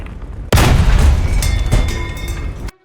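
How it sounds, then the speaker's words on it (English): A tank cannon in the War Thunder video game fires once at an enemy tank's engine, a sharp, loud boom whose rumble lingers and rings off for about two seconds before cutting out. "Now, switch to gunner view and fire at the tank engine."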